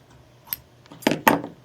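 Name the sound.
scissors cutting fabric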